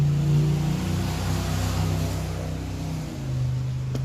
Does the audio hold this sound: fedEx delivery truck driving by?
yes